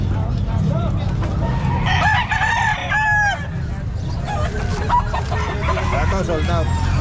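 Bull stag gamecocks at a poultry sale crow repeatedly and cluck loudly nearby, with busy crowd chatter and people talking throughout.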